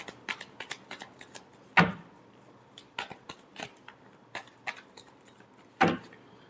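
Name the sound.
shuffling tarot cards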